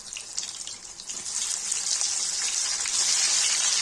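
Eggplant slices frying in hot oil, a steady bright sizzle that builds slightly and stays constant and close, with no talking.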